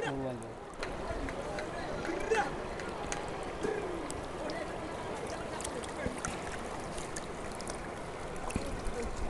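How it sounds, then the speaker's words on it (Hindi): River water gurgles and trickles continuously at low level at Bogamati, with a few faint bird chirps scattered above it. "सिर्फ पानी की कलकलाहट और चिड़ियों की आवाज़"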